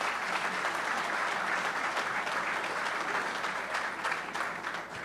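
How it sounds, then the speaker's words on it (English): Audience applause at a Rutherford County mayoral debate, a full room clapping steadily for several seconds before it begins to thin out toward the end. "Give yourselves a round of applause."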